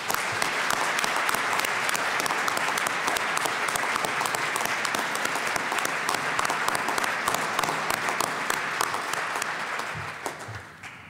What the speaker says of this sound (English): Please honor these outstanding graduates with one last round of applause.